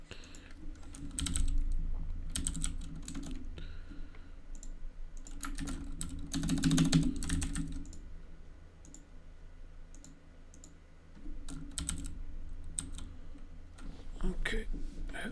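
Keys clatter on a computer keyboard in bursts of rapid typing with short pauses, close and fairly loud, with a voice speaking in the background at moments.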